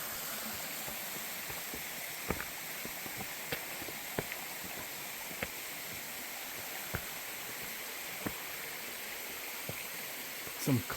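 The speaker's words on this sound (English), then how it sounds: "It's another tier of the waterfall." Rainbow Falls, a tiered waterfall below stone steps on a rocky trail, roars as a steady broadband rush of falling water, with faint footsteps or knocks scattered over it.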